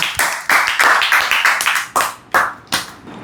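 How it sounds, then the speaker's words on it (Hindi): An audience claps loudly and close by for a young participant in a Gita discussion program, with distinct sharp handclaps that come in an uneven run and thin out toward the end. "सब लोग तालियां बजाइए इनके लिए"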